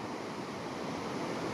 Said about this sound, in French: Force des vagues, force de la nature